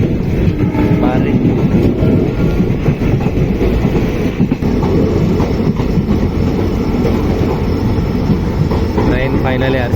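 Indian Railways train 16240 rumbles loudly along the tracks on a rainy day near Arsikere, a continuous, close roar of wheels and carriages with rhythmic clatter throughout.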